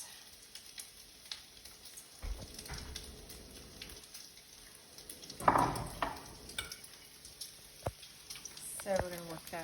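Cheese being stirred into a pot of shrimp and grits, with soft scraping, wet stirring and a faint sizzle throughout, plus a brief louder scrape midway.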